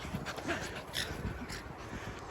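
Small dogs romp together, letting out soft throaty snorts and grunts that resemble someone clearing their throat, faint and close against a steady outdoor background.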